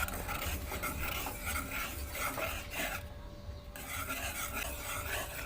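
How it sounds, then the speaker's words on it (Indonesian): A spoon scrapes and rasps steadily through a cheese dessert mixture in a cooking pot, continuous and fairly close with a brief dip midway, no talking. "Nah, ini kita aduk-aduk."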